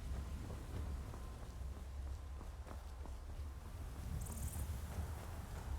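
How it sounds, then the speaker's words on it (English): A creek in the Skyrim video game gives off a steady, rain-like hiss and patter that runs unbroken throughout, fairly quiet and close, with no one speaking. "That creek sounds very rainy every time I walk over it."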